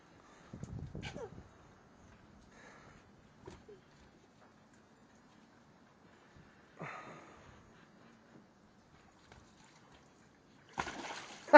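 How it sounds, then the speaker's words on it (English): A child splashes in a backyard pool, with one strong splash early on and a few smaller sloshes later, ending in a sharp, loud splash. The sounds are close and broken by quiet gaps. "Oh, splash! Big splash."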